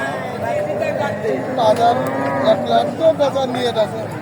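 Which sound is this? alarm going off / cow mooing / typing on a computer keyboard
cow mooing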